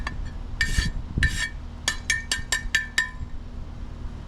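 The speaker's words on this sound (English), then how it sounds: "We're gonna hit it with a hammer." Hammer blows on welded metal pieces, about ten sharp ringing metallic strikes, first spaced apart then in a quicker regular series, close and moderately loud with no talking.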